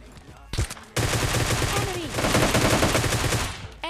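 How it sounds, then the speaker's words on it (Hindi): Gunfire from an AWM sniper rifle and a switched-to gun in a mobile solo-versus-squad shooter game. A few sharp shots come first, then dense, loud rapid bursts continue almost without a break. "हम AWM से मारने की कोशिश करते हैं पहले, लेकिन उसके बाद गन स्विच तब तक करते हैं जब तक हम इनको निपटा देते हैं"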